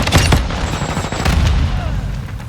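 Semtex grenade explosion in the Modern Warfare 2 video game, a loud blast with a crackling burst of noise and a second boom in a noisy multiplayer match.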